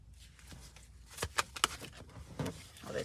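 Tarot cards drawn one after another from a deck, giving a few short, soft snaps and slides in a quiet room, with light rustling between them.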